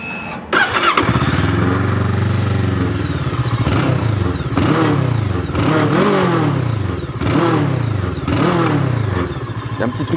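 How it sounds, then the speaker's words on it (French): Brixton Crossfire 500 café racer motorcycle, a 2020 model, starting up with a cranking catch, then idling loudly close by and being blipped through a series of sharp revs that rise and fall several times. "c'est écouter le bruit du moteur."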